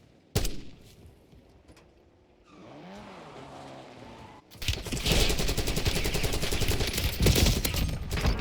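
KRIG C rifle gunfire in the video game Warzone rings out as a few scattered shots, then a loud, sustained rapid burst of automatic fire dominates the final seconds, with faint background game sounds earlier.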